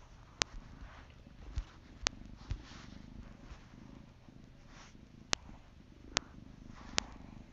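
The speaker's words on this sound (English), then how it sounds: "Are you purring?" A young female kitten purrs up close in a steady, soft low rumble that runs throughout, with occasional sharp clicks and taps over it.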